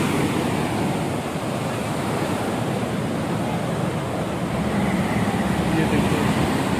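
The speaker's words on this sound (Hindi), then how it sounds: "ये देखिए पानी कितना खतरनाक निकल रहा है, छोड़ा जा रहा है पानी" Floodwater released from a lake rushes past in a loud, continuous roar, close and unbroken for the whole stretch, with wind buffeting the microphone.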